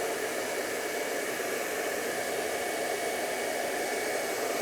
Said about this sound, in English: I like to use my blow dryer and kind of blow away from his shirt collar so that hair goes out and not down